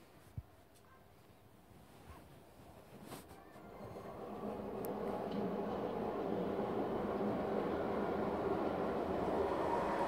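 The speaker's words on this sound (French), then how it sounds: "excusez-moi pour les bruits de métro, parce que là je suis près d'un métro" A metro train passes near a home, its rumble building from faint to a steady, louder roar over several seconds, with a sharp click early on.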